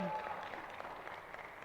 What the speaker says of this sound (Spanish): las 3 filas completas y la ovación